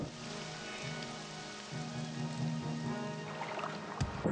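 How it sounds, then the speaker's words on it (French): Steady rain patters and hisses on surfaces in the video game Morrowind, a continuous wash of drops with a soft, even texture and no voices. "la pluie qui s'arrête, c'est beau"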